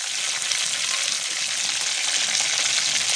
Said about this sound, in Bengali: পটলটা এইরকম প্রথমে তেলের সঙ্গে ভেজে নিলে